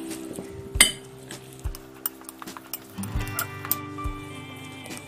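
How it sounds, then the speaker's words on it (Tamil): Boiled, peeled sweet potatoes are mashed in a bowl, giving quiet, scattered metallic clinks and soft thuds at an uneven pace. "இதை நம்ம நல்லா மசிச்சிடலாம்"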